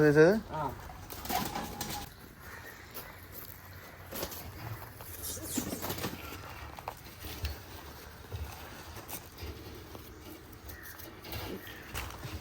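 Pigeons coo nearby with occasional wing flaps, while people talk in the background.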